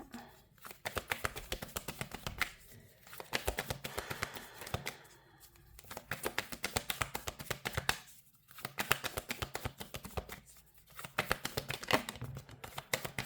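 Tarot cards being shuffled and drawn, rapid papery riffling in repeated bursts separated by brief pauses, close and steady with no talk.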